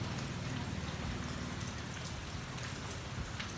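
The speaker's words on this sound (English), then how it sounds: "You see it's raining." Steady rain falling outdoors on a mild, breezy day, a dense, even patter of drops heard at low level with no voices.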